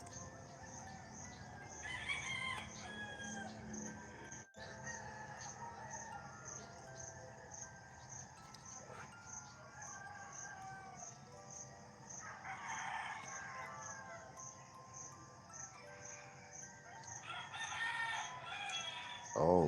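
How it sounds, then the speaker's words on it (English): Several roosters crow in the early morning, repeated cock-a-doodle-doo calls from near and farther off over a quiet background, with occasional clucks between. "The beginning of the day, the roosters are just crowing away."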